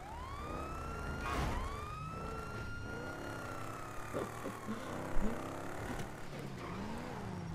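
Police and ambulance sirens wail from the distance, rising and falling tones overlapping over low traffic rumble, with a few faint knocks.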